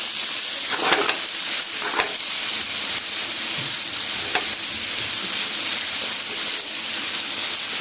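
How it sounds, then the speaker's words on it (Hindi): Potatoes frying with spices in a pan for a quick aloo dish, a continuous crackling sizzle broken by a few sharp stirring clicks, with no one talking. "हम इसी में जो है अपने आलू को फ्राई करें"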